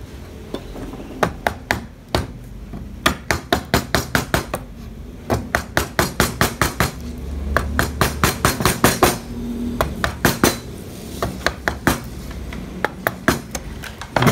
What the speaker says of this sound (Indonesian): Sekarang kita coba menggunakan pahat penguku.